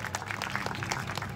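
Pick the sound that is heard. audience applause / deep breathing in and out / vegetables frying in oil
audience applause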